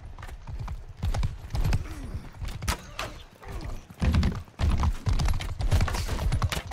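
Horse hooves clip-clop in rapid, irregular bursts during mounted combat in Mount & Blade II: Bannerlord, loud and close, with thuds and a brief neigh among the galloping beats.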